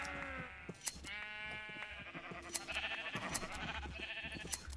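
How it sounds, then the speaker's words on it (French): Minecraft sheep bleat repeatedly at a moderate distance, several wavering calls overlapping amid soft game ambience and scattered clicks. "Mouton, mouton."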